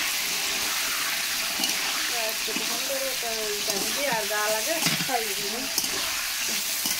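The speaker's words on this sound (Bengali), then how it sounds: "শুধু লবণ দিয়ে মাংসটা আমি ভেজে নেব" Chicken pieces frying in a pan with only salt give a steady, close sizzle throughout, with a voice talking over the crackle in the middle stretch.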